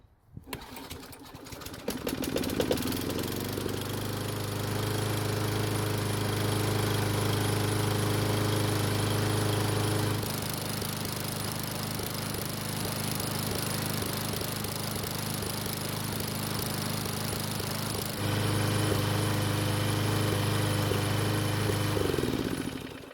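A Craftsman lawn mower engine catches after priming and runs steadily, loud and close, its droning hum holding for about twenty seconds with small shifts in tone, without any talk over it.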